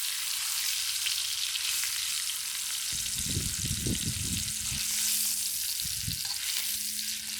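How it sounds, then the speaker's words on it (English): Duck pieces pan-fry to golden brown, giving a constant loud hiss of frying fat throughout, with a few low thuds and scrapes of handling in the middle. "I want to pan fry it until you see the little bit golden brown."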